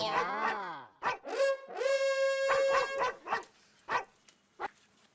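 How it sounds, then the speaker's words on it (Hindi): A mobile phone plays a dog-bark ringtone: yipping barks and a whine in irregular bursts, close and clear, with no talking. "ये कुत्ता नहीं मेरे मोबाइल की रिंगटोन बज रही है।"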